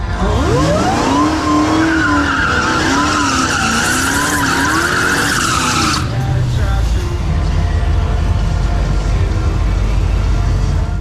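A car does a burnout on a drag strip, its tires squealing loudly with wavering pitch over engine roar for about six seconds, then dropping to a deep, steady rumble.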